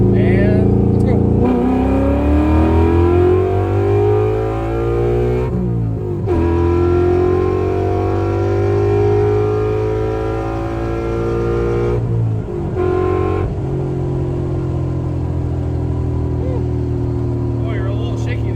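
A 500 hp Coyote-swapped pace car accelerates hard, its V8 roaring loud and close as the pitch climbs through the gears with brief dips at the shifts, while voices talk over the engine.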